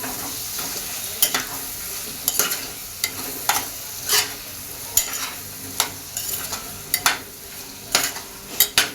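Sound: vegetables being sautéed in a pan for Marwari khichdi

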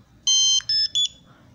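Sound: Bluetooth barcode scanner beep after scanning barcode

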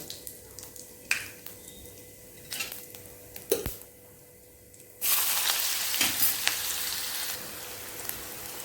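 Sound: frying onion and green chili in oil with cumin and asafoetida

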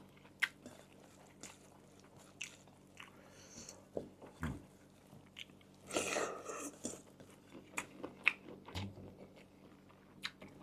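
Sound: eating rice with spicy Mon-style shrimp curry

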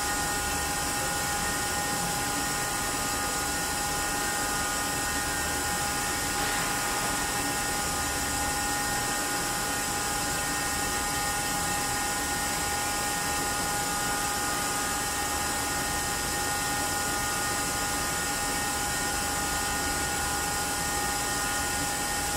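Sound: vacuum pump evacuating a cooling system

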